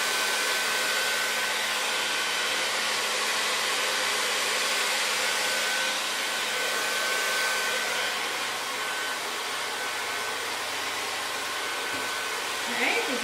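A T-360 Smooth-air hair dryer blows continuously at close range while drying and smoothing hair, a steady broadband whoosh with a faint whine that holds almost unchanged throughout.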